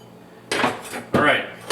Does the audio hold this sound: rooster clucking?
no